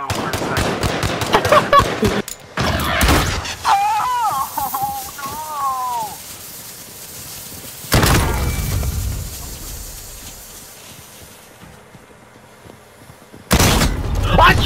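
Gunfire in a Call of Duty Modern Warfare 2v2 gunfight, with loud rapid automatic bursts early, a sharp burst in the middle and another at the end, separated by quieter game sounds and a voice talking.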